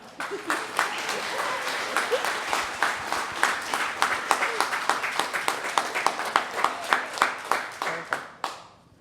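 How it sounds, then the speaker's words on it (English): Wedding ceremony guests break into sustained applause that builds into rhythmic, evenly spaced clapping before fading out, with a few voices mixed in. "we can give them a round of applause"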